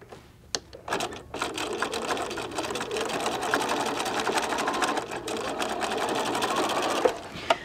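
A sewing machine stitches a dog poop bag holder, running in a steady rapid mechanical whir for several seconds after a few short starting clicks, loud and close with no talking.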